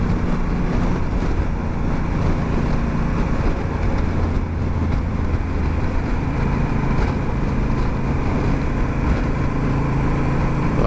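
A Honda Africa Twin with a screen and stock panniers cruising at about 100 km/h, a steady loud roar of wind buffeting and engine drone with no break throughout.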